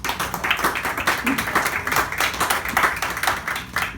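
Audience at a comedy club applauding, a dense run of many hands clapping steadily for several seconds with no pause.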